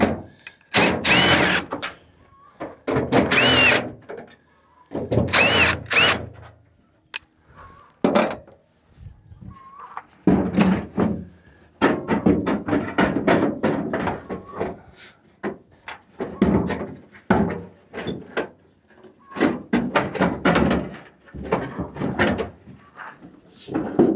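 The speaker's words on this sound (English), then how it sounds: "might help if I take the bolts out." Bolts are pulled from around the bumper and fender of a 1968 Mustang, producing repeated bursts of close metallic clanks, rattles and scraping separated by short pauses, with hardly any talk.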